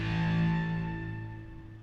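Heavily distorted synth guitar notes for a dancefloor drum and bass track, a loud sustained chord with a long release that fades steadily over two seconds, alone with no talk.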